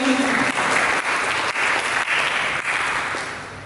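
Church congregation applauding during a Sunday service, a dense, loud, steady wash of clapping filling the room that tapers slightly at the end.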